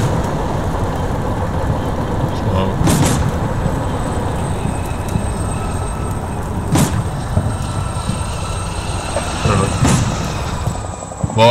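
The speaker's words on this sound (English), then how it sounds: "Well, I hear helicopters." A helicopter's steady rotor drone and engine rumble fill the scene in the video game Combat Mission: Black Sea, with a few sharp bursts cutting through at intervals.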